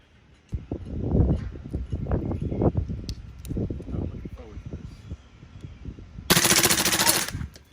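Someone talks, and then a single force-on-force AR15 training rifle shot cracks loudly near its end as a short, harsh burst.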